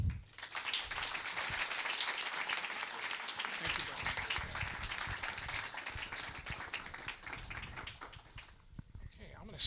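Audience applause welcoming a panel onto the stage at a Boston Lyric Opera scholar event, a dense, steady wash of many hands clapping that carries on for several seconds before thinning out at the end.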